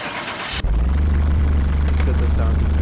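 Car engine starting in the Car Mechanic Simulator 2021 video game: a burst of noise cuts off abruptly and gives way to a loud, steady, low idle rumble that continues to the end.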